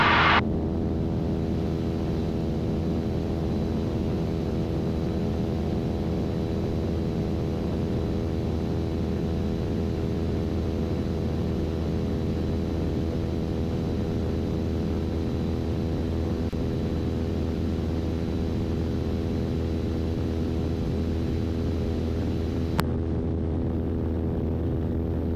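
A small airplane's engine drones steadily and loudly through a night flight from Savannah, Georgia to Concord, North Carolina, a constant cockpit hum with no change in pitch.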